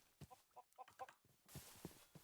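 Panicked chickens in the video game Minecraft, a string of short, clucking bursts, near and fairly loud, followed by a denser, noisier flurry of squawks toward the end.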